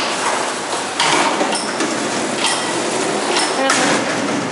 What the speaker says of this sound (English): look how the door opens up into the other door